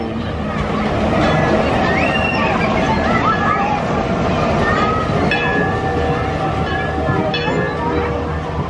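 Rumbling ride noise of the Runaway Mine Train coaster at Alton Towers rolling along its track, steady and loud throughout, with a crowd's chatter and occasional shouts mixed in.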